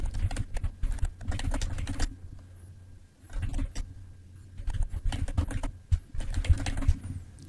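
A new password is typed on a computer keyboard in quick bursts of close key clicks, separated by short pauses and with no voices.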